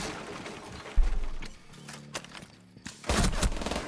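An SMG-11 submachine gun fires in a video game, with two sharp bursts of rapid shots separated by quieter mechanical clicks.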